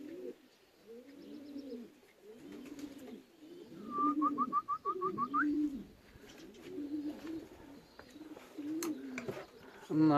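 Pigeons coo in repeated soft, rhythmic phrases close by at a loft where racing pigeons are arriving after a 360 km race, with a brief burst of quick chirps and wing flutters mixed in.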